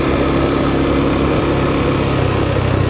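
Steady engine drone of a KTM 390 Adventure motorcycle under way, a continuous loud buzz with wind and road rumble, no talking.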